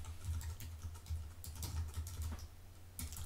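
Quick, close typing on a computer keyboard fills the moment, an uneven patter of soft key clicks in short bursts with no voices.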